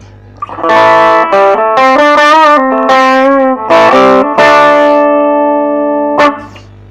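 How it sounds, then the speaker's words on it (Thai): A distorted three-string electric phin with an alder body plays through an amplifier, loud sustained overdriven notes and short phrases with brief pauses, no talk. "เดี๋ยวมาลองฟังเสียงแตกหน้าตู้กันดูนะครับ"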